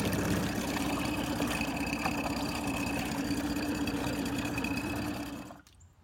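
A 2018 Mercury Fourstroke 20HP outboard idles in reverse with a smooth, even hum up close, then the sound drops away sharply near the end.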